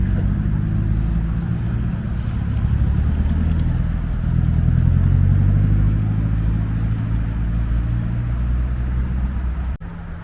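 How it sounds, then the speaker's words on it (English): Cars pulling away from a car meet, a loud continuous engine drone with rising revs and clatter, close by and steady for the whole stretch, ending in a sharp click. "And these two cars leaving"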